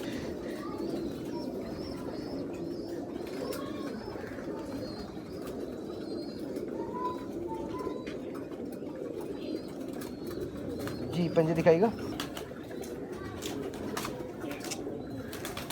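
Soft cooing from Missay breed pigeons repeats in the background among faint chirps, with a person speaking quietly at times and a brief rustle near the end.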